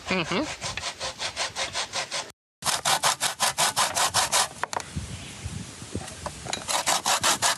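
Hardened cocoa grated on a hand grater in Jamaica, old-style, for cocoa tea: steady rhythmic rasping strokes, loud and close, one brief break in the middle before the scraping resumes.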